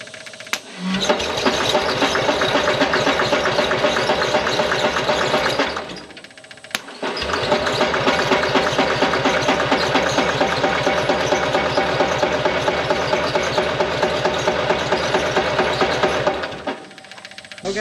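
An Onan backup generator engine cranks over without catching, a loud, steady, rapid mechanical churning close by that runs for several seconds, stops briefly, then cranks again for a long stretch before cutting off.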